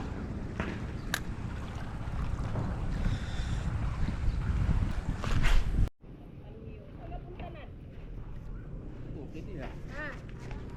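Wind buffets the microphone over a rumbling boat motor and lapping water, then the roar drops abruptly to a quieter hum with faint voices.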